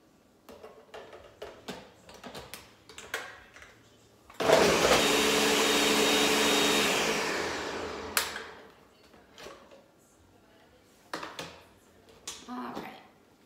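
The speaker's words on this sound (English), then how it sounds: "Pour it in our blender." A blender whirs loudly for about four seconds blending greens and juice, winding down, surrounded by clinks and handling noises before and after.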